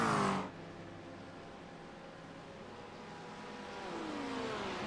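A Ferrari GT3 race car engine in a sim racing game at Fuji hums steadily at mid distance after a brief loud burst, then climbs in pitch as it accelerates near the end.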